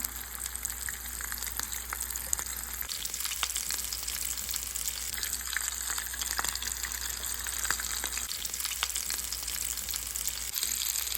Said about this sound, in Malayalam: പാനിൽ എണ്ണ ചൂടായിട്ട് ഈ റോൾ സമോസൊക്കെ അതിൽ ഇട്ട് കൊടുക്കാം